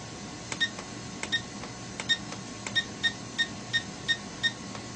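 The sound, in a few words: beeps from Syma X8HW drone transmitter during trim adjustment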